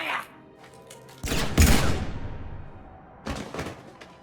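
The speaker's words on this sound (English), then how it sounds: "Now open fire!" Gunfire in the Mass Effect 3 video game: a loud burst of shots that decays into a rumbling tail, then a smaller second burst near the end. Game voices are heard around it.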